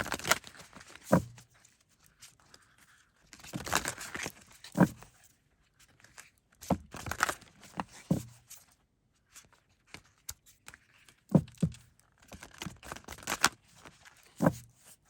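Oracle cards shuffled during a reading, giving soft rhythmic riffles and taps in short bursts separated by quiet pauses, close and faint.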